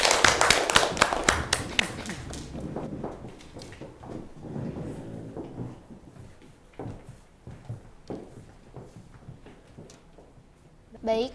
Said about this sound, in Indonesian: Boleh kita beri tepuk tangan dulu.